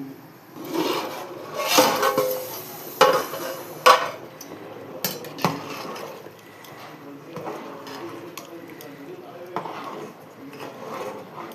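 Rice is stirred in a biryani pot, with scraping metal spoon strokes and clanks against the vessel, louder bursts early on and then softer rubbing and scraping.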